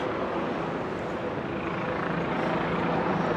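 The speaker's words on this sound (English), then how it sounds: "Wow, this helicopter noise, man. Loud." Helicopter flying over Manhattan, a steady loud broadband rotor and engine roar with a faint low throb, continuous and unbroken with no talk.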